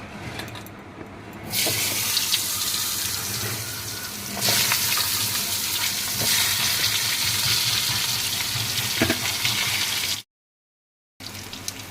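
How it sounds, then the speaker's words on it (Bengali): Potato and pointed gourd pieces frying in a pan, a steady broad sizzle close by that grows louder after a couple of seconds and again around four seconds, continuing until a short silent gap near the end. "এরপর এখানে আলু পটলটাকে ভাজবো।"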